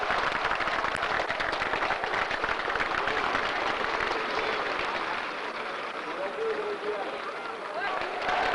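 A large outdoor crowd in Moscow in 1991 cheers and applauds steadily, a dense wash of clapping and voices that holds loud throughout before easing slightly near the end.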